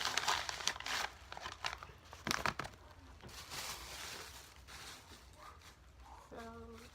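Plastic bags being crumpled and stuffed into a paper squishy, with bursts of crinkling and rustling, fairly close but quiet, and a short tonal sound near the end.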